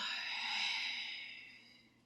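A single slow, breathy exhalation during a breathing exercise swells and then fades away, soft and close.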